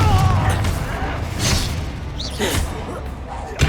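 Confringo blasting spell exploding in Hogwarts Legacy, with loud, dense booming bursts and crashing debris that roll continuously through a busy layer of battle noise.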